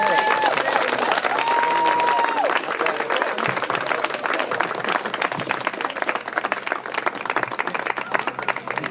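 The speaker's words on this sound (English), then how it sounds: "Let's give another round of applause" Crowd applause at an outdoor opening ceremony of a green festival, a sustained wash of many hands clapping at full strength, with a brief tone and scattered voices underneath.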